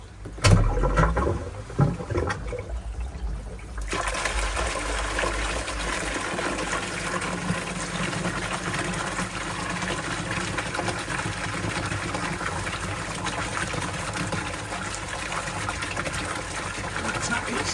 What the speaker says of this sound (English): So I think this is the pump.